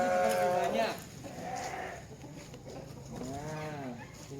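Several small goats bleat in wavering calls, one near the start and another toward the end, close by in a farm setting.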